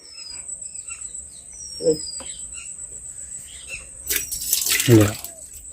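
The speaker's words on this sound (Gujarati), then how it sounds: "તો જો મિત્રો મમ્મી પાણી કાઢે છે" Water drawn out by hand, with a low splash and a rush of pouring near the end, set against a steady outdoor backdrop of chirping crickets and scattered bird calls.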